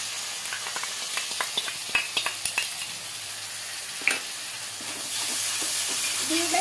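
Biryani masala cooking with beaten sour yogurt in a pan: a run of rhythmic spatula scrapes over a sizzle, then a steadier, louder hissing fry near at hand.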